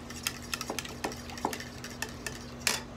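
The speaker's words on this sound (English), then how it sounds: "Don't be lazy, just get down in that bowl, mix it on up" Fajita ingredients are mixed by hand in a bowl at a tiki bar, giving soft, irregular scraping and clinking strokes in a loose rhythm, close and fairly quiet, with no talking.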